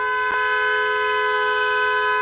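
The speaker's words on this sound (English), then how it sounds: "Hundreds of cars lined up along Cedar Avenue, honking, screaming, swearing, threatening us." Long sustained blare of car horns from cars lined up along a street, loud and continuous with layered steady tones and no break.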